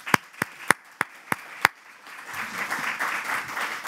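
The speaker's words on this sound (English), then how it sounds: "So let's just a quick round of applause to the panel." Audience applause for a Medicare panel: about six separate sharp claps spaced through the first second and a half, then a thin, diffuse patter of scattered clapping that rises gently toward the end.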